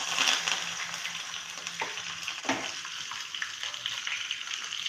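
Sesame seeds, curry leaves and green chili sizzling in hot oil for a dhokla tempering, a crackling fry with a few sharp pops as the items hit the pan, fairly faint and without talk.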